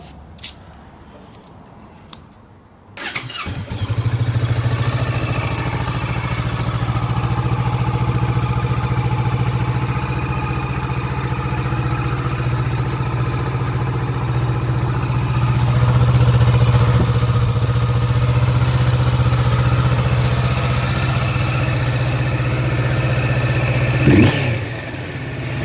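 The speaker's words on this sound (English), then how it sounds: "this is the cold start with the stock exhaust" A Kawasaki Vulcan S motorcycle with stock exhaust cold-starts after a few clicks and settles into a steady, loud, low idle that rumbles on evenly for over twenty seconds.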